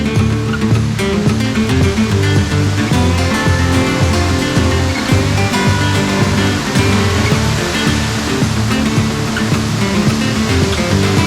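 Loud, steady rush of water from the Véu da Noiva waterfall at Lago Azul in Jaguariaíva, Paraná. It roars continuously and close throughout, with no speech heard.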